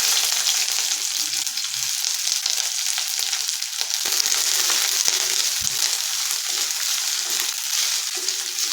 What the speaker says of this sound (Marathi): तेल छान गरम झालेलं आहे त्याच्यामध्ये उभा चिरलेला एक कांदा घालते